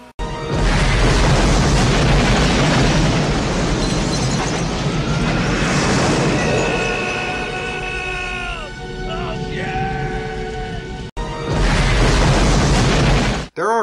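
In a cartoon, a thrown exploding gem blows up half a vehicle. A loud, sustained booming blast with crashing debris fills the clip, followed by ringing tonal effects and a second abrupt burst near the end.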